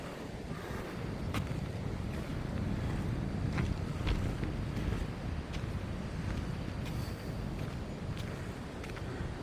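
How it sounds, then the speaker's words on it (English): Wind blowing hard outdoors on an Oklahoma morning walk, a steady rushing roar with microphone buffeting that stays loud and continuous throughout. "The wind's already picking up."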